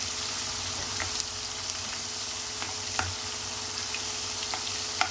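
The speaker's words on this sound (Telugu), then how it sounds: "అది కొంచెం పచ్చి వాసన పోయే వరకు ఫ్రై చేసుకోండి." Ginger garlic paste frying in a pan for Punjabi dhaba-style chole masala gives a steady close sizzle, with a few sharp pops and light scrapes of stirring scattered through it.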